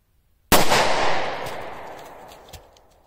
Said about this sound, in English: That was a Full Metal Jacket round